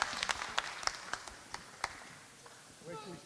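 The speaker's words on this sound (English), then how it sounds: "massive big round of applause to CY" Applause for an award recipient at a Black Impact awards ceremony, with scattered claps standing out over crowd chatter before the clapping fades and voices take over near the end.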